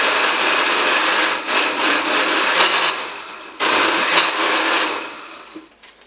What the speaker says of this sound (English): I'm going to blend all the vegetables